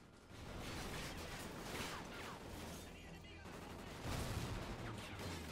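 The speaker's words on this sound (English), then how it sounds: "Yep, that grenade got him." In the Call of Duty Ghosts video game, gunfire crackles in dense bursts and a grenade blast rumbles, a continuous loud battle din with a speaking voice over it.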